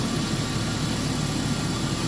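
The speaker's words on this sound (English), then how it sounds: "so we've got the engine running" A Mini Cooper R50 Park Lane engine idles steadily nearby during coolant system bleeding after a repair, a continuous even drone with no talking.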